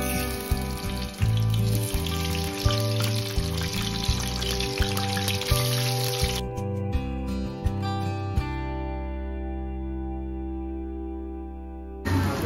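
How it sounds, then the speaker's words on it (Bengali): Potato pieces fry in hot oil with a steady hiss and crackle under background music, and the sizzle fades out partway through. "এবার আমি আলুগুলোকে আগে ভেজে নেবো"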